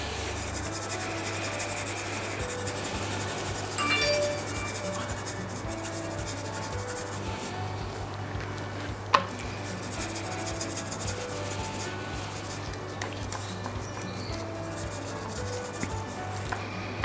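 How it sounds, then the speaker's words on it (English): Dry spice rub being worked by hand over a pork loin crackling joint for barbecue, a soft continuous rubbing and scraping texture that runs steadily close up, with one brief sharp tick partway through. "Now we're going to put our rub all over it."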